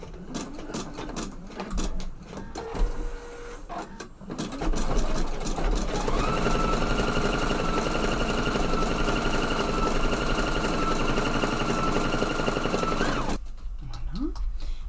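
A Husqvarna EPIC 3 embroidery machine stitching, a rapid, even mechanical rattle that starts after a few seconds of scattered handling noises, runs steadily and close, then stops near the end.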